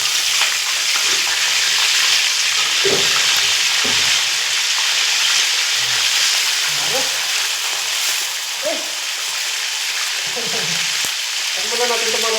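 Food frying in a pan on a home stove, a steady broadband sizzle that stays loud and close throughout, with occasional clinks and short bursts of voices in the background.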